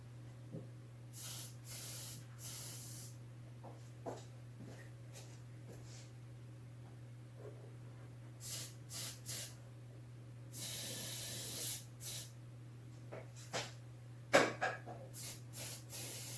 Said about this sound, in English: I'm going to hit that with white lithium grease, I think, as well as the sector shaft down below.